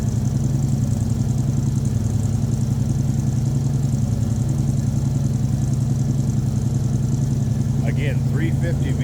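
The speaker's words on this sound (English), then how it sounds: "We are up on a higher idle just because that was a cold start" A 1971 Chevrolet Nova with a 350 V8 idles high after a cold start, a steady, loud, low rumble with an even lope throughout, and a short burst of brighter chirping near the end.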